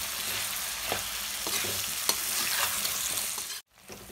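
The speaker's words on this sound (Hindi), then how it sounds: "हम इसमें आलू डाल देंगे। अभी इन्हें अच्छे से चला देंगे, साथ ही मटर भी डाल देंगे, इनको अच्छे से भून लेंगे 2 से 3 मिनट" Potatoes and peas sizzle in masala in a pan, a dense close frying hiss with a few spatula scrapes while being stirred, cutting off abruptly near the end.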